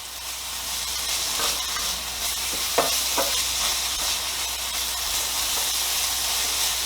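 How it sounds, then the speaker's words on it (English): Onion and tomatoes cooking in olive oil in a pan make a steady, even sizzle and hiss throughout, with a few brief clinks of stirring near the middle and no talking. "I'm going to add my onion first. After I let these cook for a minute or two, I'm going to go ahead and add my tomatoes."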